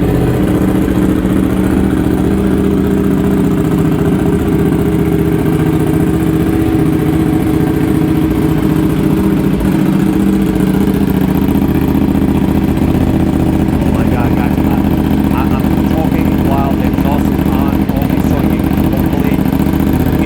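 Aprilia RS457 motorcycle engine idling with the air filter baffle removed, a loud, steady, close-up low rumble held throughout with a few faint blips near the end.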